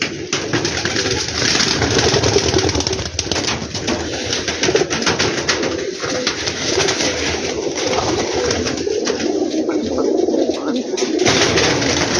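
Teddy pigeons in a rooftop loft setup coo steadily and close, many soft overlapping calls blending into a continuous throaty murmur, with a faint engine rumble in the background and no talking.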